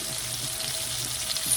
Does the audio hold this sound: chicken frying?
yes